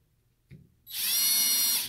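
A power drill fastens the cover back onto an LED Outfitters Flex Series arrow board. A small click is followed by a close, loud, high-pitched whir from the drill that runs steadily for about a second.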